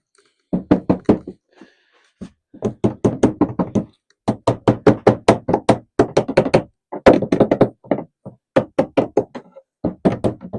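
An overturned washing machine that will not drain is knocked on repeatedly by hand, producing close, loud, hollow thuds in irregular bursts of quick raps separated by short pauses, with no talking.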